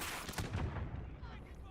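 Video game gunfire in a combat zone, a quick burst of booming shots over a second, fairly faint and muffled, followed by a fading rumble.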